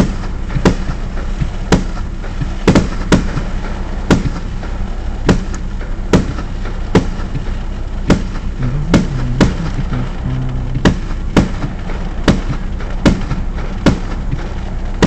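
Fireworks set off outdoors during a test, with a steady series of sharp, loud bangs and cracks roughly every half second to second over a continuous rumbling background, no talk.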